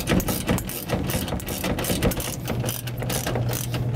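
A hand ratchet clicks rapidly and continuously while tightening a 10 mm bolt on a soda machine cooling deck, close and loud with a steady mechanical pawl rhythm.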